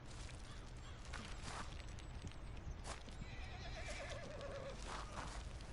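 A horse in the video game Red Dead Redemption 2 whinnies with a descending neigh amid clip-clopping hooves and steady background noise, the call rising clearly near the end.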